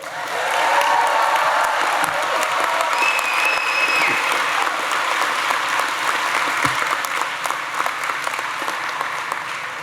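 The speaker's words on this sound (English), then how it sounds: "So one more round of applause for our graduates." A large audience at a university convocation gives sustained, loud applause for graduates, dense clapping with some cheers and whoops, holding steady for about ten seconds before easing slightly.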